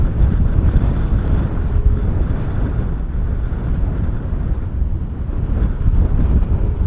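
Strong 35-knot wind buffets the microphone at Bristol Airport, a constant low rumbling roar with gusty surges throughout and no voices.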